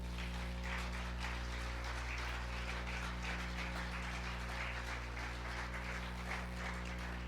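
A church congregation applauds during a Spanish-language service, a dense, sustained patter of many hands clapping evenly throughout, heard somewhat faintly over a steady low hum with no talking.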